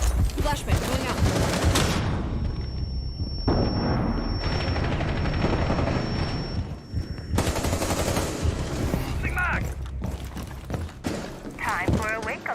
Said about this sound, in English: Flashbang going out.